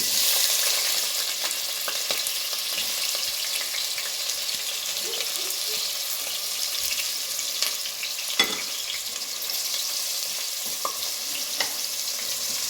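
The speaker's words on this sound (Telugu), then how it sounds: "ఫస్ట్ కొంచెం ఆయిల్ పోసుకోండి. ఫస్ట్ కొంచెం ఆనియన్ వేసుకోవాలి." Onion frying in oil for a mutton keema curry: a steady, close sizzle runs the whole time, broken by occasional soft scrapes of stirring, with no one speaking.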